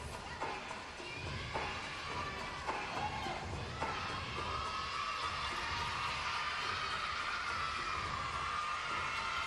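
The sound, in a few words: crowd of fans screaming and cheering at gymnastics meet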